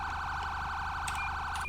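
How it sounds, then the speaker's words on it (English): A police siren from a vehicle in Garry's Mod with the Photon 2 lighting system wails as one loud, steady electronic tone, then breaks into brief chirps near the end. "change the siren tones."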